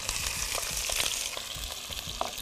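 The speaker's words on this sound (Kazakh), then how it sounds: "Қызған майда қуырылғанда көкөністер жақсы қуырылады." Vegetables frying in well-heated oil for a warm vegetable salad, a steady close sizzle with scattered crackles and pops throughout, no voices.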